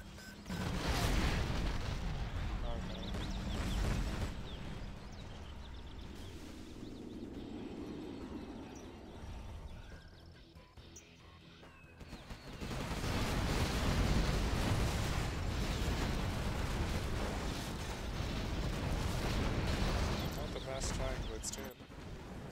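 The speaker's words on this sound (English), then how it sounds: "artillery barrage is going on that pile." Artillery barrage in C&C Zero Hour during a 3v3 match: dense, continuous rumbling blasts and booms fill the scene, easing briefly midway before surging loud again, with a voice talking over it.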